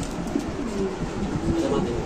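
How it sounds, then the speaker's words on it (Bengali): Pigeons at a seller's place coo in low, throaty bursts close by, over a constant background murmur. "আমরা একটু নিচে ছেড়ে কবুতর দেখাচ্ছি আপনাদের"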